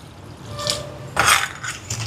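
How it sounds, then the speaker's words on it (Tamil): Water is poured into a pot of crab rasam with tamarind and turmeric, giving a short splashing rush after a few soft kitchen clinks, close and moderately loud. "தண்ணி சேர்க்கிறேன்."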